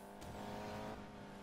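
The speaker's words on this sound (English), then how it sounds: "Ah, there's a car coming." A car engine drones in the Need for Speed Payback racing game, a steady, moderately close hum that swells slightly midway through a short burst, faint overall and without talk.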